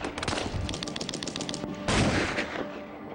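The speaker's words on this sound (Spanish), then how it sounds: "Los tiradores efectuaron miles de disparos" Gunfire in the WWI shooting that downed the Red Baron, with rapid bursts of machine-gun shots in quick succession and a denser volley near the end.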